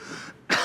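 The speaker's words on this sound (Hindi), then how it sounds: "आप भौंक क्यों रहे हैं? खांस क्यों रहे हैं" A man coughs and clears his throat in a courtroom drama, a short throaty burst loud and close after a quieter rasp, with no talk over it.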